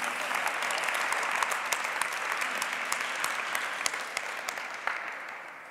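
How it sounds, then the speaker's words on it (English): An audience at a Latin dance lecture claps together for several seconds, a dense, fairly quiet patter of many hands in a room that fades slightly at the end. "Clap."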